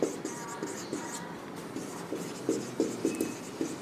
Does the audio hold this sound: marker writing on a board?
yes